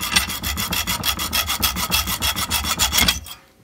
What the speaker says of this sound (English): cut a little slot in it so it'll crimp down on there